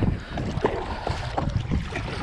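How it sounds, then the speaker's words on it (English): Big waves slosh and break around a kayak in near gale-force wind, with choppy watery splashes and gusty wind rumble buffeting the microphone, close and irregular. "Big waves. Big waves."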